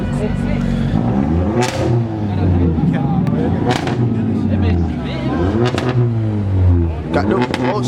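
A Volkswagen engine revs repeatedly at a loud car meet, rising and falling in pitch over steady crowd noise and other engines, with people talking nearby.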